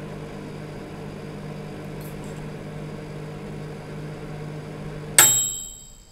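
A microwave oven runs with a steady low electrical hum for several seconds, then a sharp metallic clank rings out and decays as the running stops.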